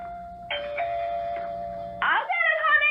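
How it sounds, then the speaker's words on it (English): A doorbell chimes in a few ringing tones over soft background sound, followed by a brighter, louder chime near the end. "the doorbell rang"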